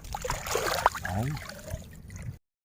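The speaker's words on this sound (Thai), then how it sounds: "เสียงคลื่นนะ" Small waves lapping and gurgling against a boat hull on the water while shrimp nets are being set, a soft close sloshing trickle with faint movement, then quiet.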